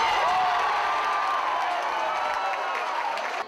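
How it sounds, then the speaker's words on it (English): A UWM student crowd roars and cheers at a Monday night sports event, a loud, sustained wall of shouting and whooping that stays dense from start to finish and trails off slightly at the end. "the UWM crowd roared just as loud as them too."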